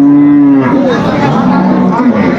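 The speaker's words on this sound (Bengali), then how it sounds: "গাভী বাছুর আমরা দেখছিলাম" A cow with her calf lows at a village cattle market in Aftabganj, one loud, drawn-out moo filling the moment close to the listener.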